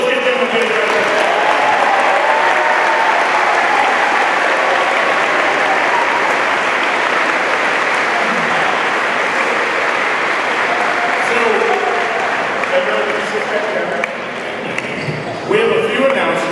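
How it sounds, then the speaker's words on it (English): A school gymnasium audience at a freshman orientation closing ceremony claps for the freshman mentors, a steady, dense wash of applause lasting throughout with faint cheering underneath. "Your freshman mentors, let's give them a big round of applause."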